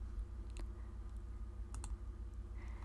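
A computer mouse clicks a couple of times, sharp and isolated, during editing in Pixlr, over a quiet low hum with no talk.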